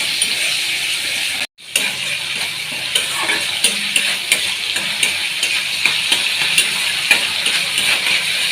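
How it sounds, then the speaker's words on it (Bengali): Whole dried red chillies, black cumin and a spoonful of spice mix fry in hot oil in a pan, a steady close sizzle with light stirring scrapes and small ticks throughout, broken by a brief gap near the start. "মশলাটা ভালো করে ভেজে নিয়ে দিয়ে দিলাম বাদামটা"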